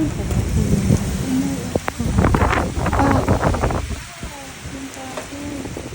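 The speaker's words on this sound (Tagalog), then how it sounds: "Napakalakas ng hangin." Strong wind from a summer storm roars and buffets the microphone continuously, with gusty bursts, while voices talk intermittently over it.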